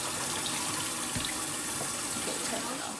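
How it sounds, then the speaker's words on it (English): Water running from a kitchen tap while hands are rinsed and washed, a steady, close, rushing flow that holds constant for the whole stretch, with no talking. "Always wash your hands."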